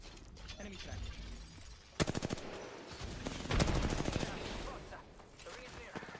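Automatic weapon fire in a shooter game: a fast, loud burst of evenly spaced shots, then a second heavier volley a moment later, over steady game background noise.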